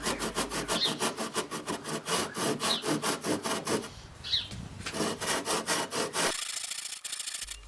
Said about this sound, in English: use your tenon saw to cut the sidelines